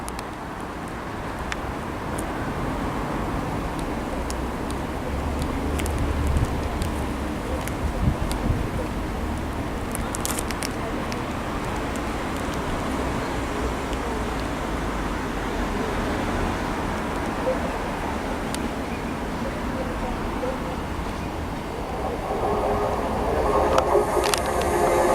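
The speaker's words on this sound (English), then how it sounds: "next to arrive in is the delayed 1326 ScotRail service from Edinburgh to Dunblane" A ScotRail train running from Edinburgh to Dunblane pulls into Linlithgow station, a low steady rumble with wind buffeting the microphone and a rise in brighter rail noise near the end.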